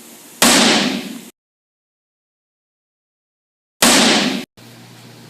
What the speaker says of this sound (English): This is the sound of a gun firing.